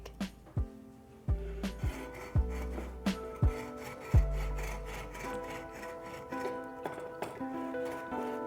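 An Agbay cake leveler blade saws back and forth through a sponge cake, giving a steady series of close, soft strokes, each with a faint twangy ring from the wire.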